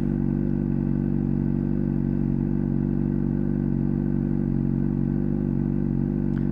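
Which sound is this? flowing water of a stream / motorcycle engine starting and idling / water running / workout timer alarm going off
motorcycle engine starting and idling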